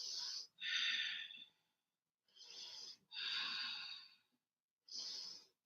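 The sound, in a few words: breathing during a yoga hip stretch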